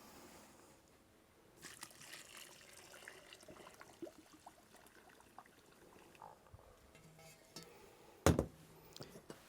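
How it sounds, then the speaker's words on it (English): Boiling water pours onto sugar, citric acid and orange peel in a bowl, a faint, soft trickle and splash heard close up, ending with a sharp clink of the container. "pour the boiling water into here to dissolve the sugar, the citric acid, and start to bring out the flavors from the orange peel"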